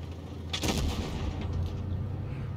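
A Jagdpanzer E 100 tank cannon fires in World of Tanks Blitz, giving one sharp, loud report and then a brief rumbling tail over steady game background noise.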